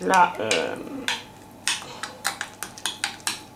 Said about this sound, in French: Donc là je vais prendre une autre cuillère pour prendre